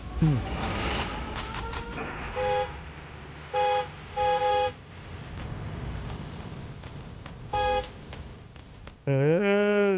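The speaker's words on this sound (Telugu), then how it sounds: "హార్న్ కొట్టు" Several short horn honks blare in bursts over a busy, noisy road, followed by a longer wavering tone near the end.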